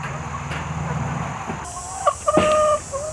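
Chickens cluck inside a backyard chicken coop in a late-summer garden, a few close, short clucks and squawks rising over a low ambient hum.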